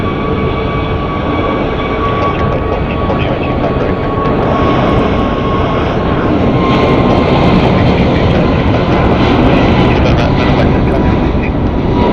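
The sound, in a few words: airliner taking off, Kahului flight, Phoenix Sky Harbor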